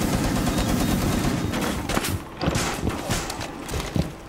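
Rapid bursts of video game gunfire rattle loudly and continuously, with dense repeated shots and brief lulls throughout.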